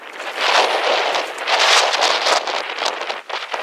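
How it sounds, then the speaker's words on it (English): Strong desert wind roars and buffets the microphone in loud, gusting surges that rise and fall, with no other sounds heard. "And the wind is blowing like crazy, and it's cold."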